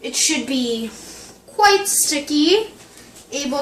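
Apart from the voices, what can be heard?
No distinct noise like a dog, phone or traffic.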